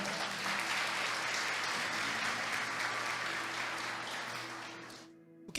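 A church congregation applauds steadily for about five seconds, a dense crowd of hands clapping at even loudness before cutting off abruptly.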